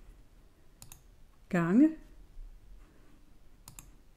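Key presses on a TI-30 X calculator: two crisp, isolated clicks about three seconds apart, with a short spoken word between them over a quiet background.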